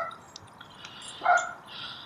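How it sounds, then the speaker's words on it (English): A dog barks once fairly close in a quiet outdoor yard, a short bark followed by softer yips and faint whines against low background noise. "Again, excuse the dogs."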